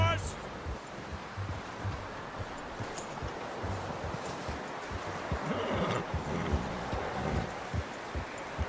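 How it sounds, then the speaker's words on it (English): A horse in the video game Red Dead Redemption 2, hitched outdoors, snorts and shifts with soft hoof sounds against a wind-like ambient bed, close and moderately loud. "You should really tether that horse, Arthur."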